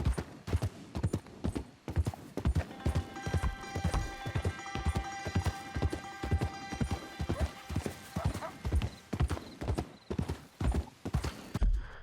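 Horse hooves clip-clop in a steady trotting rhythm in Red Dead Redemption 2, close and distinct, with a few faint whinnies and tonal game sounds layered underneath.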